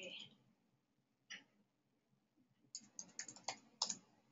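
Someone types a search topic on a computer keyboard, with a few isolated key clicks followed by a quicker run of close, crisp taps in a quiet room.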